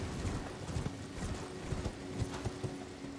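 Horse hooves clip-clop steadily at a riding pace in the Elden Ring video game, a quiet, regular patter of repeated hoofbeats with no talk over it.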